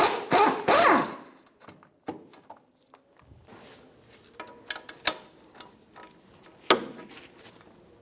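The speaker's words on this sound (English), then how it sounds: "Using a 22mm socket, we're going to remove the 2 caliper bolts." A 22mm socket works loose the two caliper bolts on a 2003-2007 Infiniti G35, giving a few sharp metallic clanks and ratchet clicks with quiet gaps between them, close and alone.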